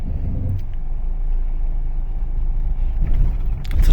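A car pulling away in traffic during a Turkish driving-licence exam run: a steady, close engine rumble with low road noise that swells slightly near the end, with no talking.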